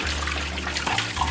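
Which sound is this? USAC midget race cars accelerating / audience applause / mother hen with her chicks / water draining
water draining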